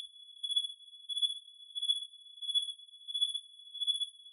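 Synthesized cricket chirps made in VCV Rack with reverb, a pure high tone pulsing in steady repeated bursts, sounding like a distant set of crickets heard alone.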